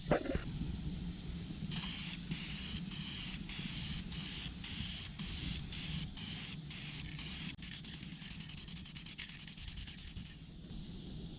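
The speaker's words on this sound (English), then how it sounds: "let's start spraying the paint" A spray paint can sprays paint onto an exhaust in a series of short hissing bursts, then longer continuous sprays, close and fairly quiet.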